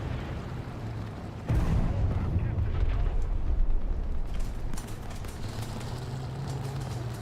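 Heavy tank cannon fire and battle rumble in War Thunder, a sustained loud booming roar that swells mid-clip and then eases back under a steady engine drone.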